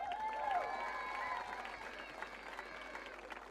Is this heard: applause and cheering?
yes